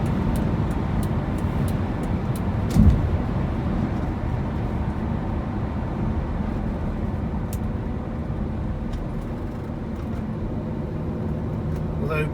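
A car drives along a smooth, quiet road, its steady tyre and engine rumble continuing evenly throughout with a brief bump partway through; no one speaks.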